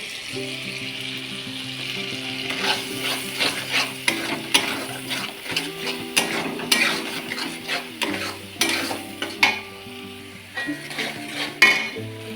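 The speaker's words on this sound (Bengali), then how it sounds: "মশলা ভাজা হয়ে গেছে, এবার মশলাতে দিয়ে দেবো কিছু গুঁড়ো মশলা।" Whole spices frying in a pan with tomato paste and salt for a Bengali cauliflower and paneer curry, a steady sizzle broken by repeated scraping and clinking of a spatula stirring against the pan, close and loud.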